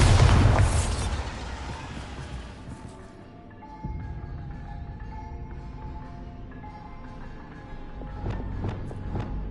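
A Bombarda blast spell in Hogwarts Legacy goes off with a loud, close boom at the start that fades into rumbling debris, followed by fainter thuds and clattering afterward.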